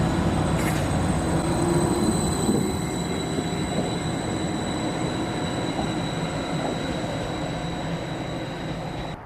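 A train rolls steadily along the rails of the Felixstowe branch line with a continuous low rumble and faint high squeal, fairly loud and unbroken throughout.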